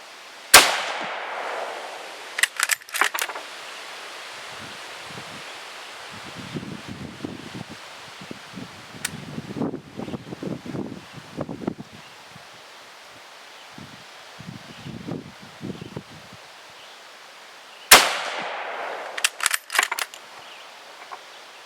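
A Finnish M39 Mosin-Nagant rifle fires commercial Eggman 150 grain soft point rounds outdoors, two sharp loud cracks far apart, with bolt clatter and rustling handling noise in between.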